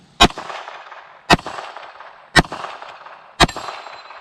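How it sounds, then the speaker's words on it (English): Four sharp pistol shots from an SCT 17 fired at a small steel plate target, spaced about a second apart, each a loud crack followed by a brief ringing decay. "I was shooting a little bit low with this ammo"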